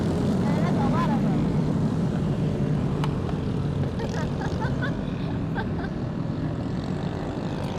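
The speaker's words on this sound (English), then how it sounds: "It's like 200 motorcycles driving by" A large mass of motorcycles drives past on a city street, a dense, loud, continuous engine drone with people talking faintly underneath.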